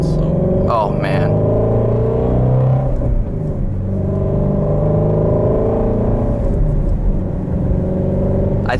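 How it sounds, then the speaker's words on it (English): A 2018 Shelby GT350 Mustang engine revs hard under acceleration, a loud, rising, rumbling howl close by, with a short gearchange lull before it pulls again and a voice speaking briefly early on. "I think this is the best sounding car I've ever driven."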